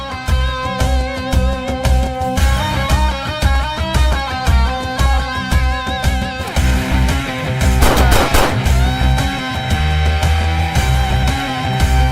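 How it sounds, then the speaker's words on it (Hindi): Gunfire rings out repeatedly in a crime drama scene where three people are shot, with sharp bursts layered over loud, dramatic music across the clip. "3 लोगों पर गोलियां चलाई गई हैं।"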